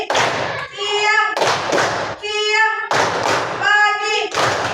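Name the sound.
hand clapping rhythm in a classroom clapping game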